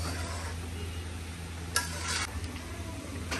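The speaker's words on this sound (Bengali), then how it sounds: "এই যে এখানে রোস্ট হইতেছে" Chicken roast cooking in a pan at a home family gathering, giving a steady close sizzle and bubbling with a brief louder burst of hissing partway through and no talk.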